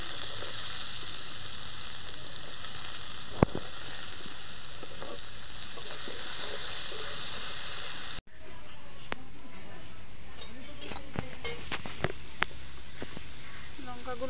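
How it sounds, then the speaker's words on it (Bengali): Carrots fry in a pan with a loud, continuous sizzle, broken midway by a brief cut and then resuming with small clinks of stirring, heard close with no talking. "এবারে আমি গাজরটা ভাজবো"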